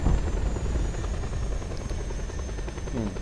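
A helicopter in the video game Just Cause 2 gives off a steady, loud rotor drone with a low rumble and a faint high whine. It holds without a break for a few seconds.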